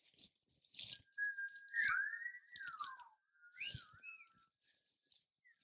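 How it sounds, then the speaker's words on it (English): In a lecture hall, an audience member whistles a few sliding, rising and falling phrases, fairly faint, with quiet shuffles and knocks between them. "Would someone like to whistle?"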